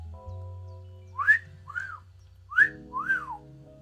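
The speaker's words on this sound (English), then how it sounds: "He whistles." A man whistles two short rising-and-falling phrases, each a pair of bright notes, clearly audible over a low steady hum in an indoor room.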